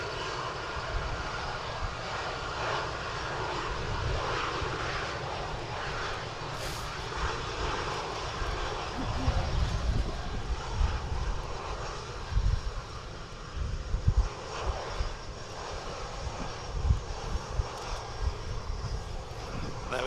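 A Turkish Airlines Airbus A330 jet's engines rumble and whine at an airport in wind and rain, a sustained moderate roar with uneven surges toward the end.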